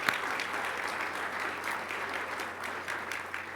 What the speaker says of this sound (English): You can give the mayor a nice applause.